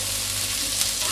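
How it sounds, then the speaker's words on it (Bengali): Meat tipped into a pan of boiled vegetables for a homemade pasta dish, stirred over steady, even sizzling that stays close and constant throughout, with no voices. "মাংসগুলো দিয়ে একটু নেড়ে চেড়ে নিচ্ছি"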